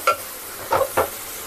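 Carrot and beetroot halwa mix being stirred and fried in ghee, giving three short scraping stirs over a soft background sizzle, close and fairly quiet.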